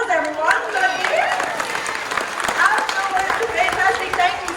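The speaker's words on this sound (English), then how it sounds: "I think they need a round of applause, everyone" An audience at a cockatoo bird show at Currumbin Wildlife Sanctuary on the Gold Coast, Australia, claps steadily, with a nearby voice talking over the continuous applause.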